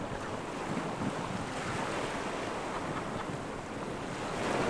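Caribbean seawater washes around an underwater camera held a few inches above the ocean floor, giving a continuous muffled wash and hiss, faint and even, with no voices.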